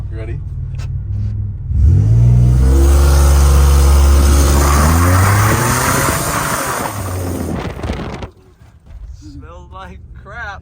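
A loud supercharged Chevrolet Monte Carlo engine revs hard and close for several seconds, then drops off, followed by people talking.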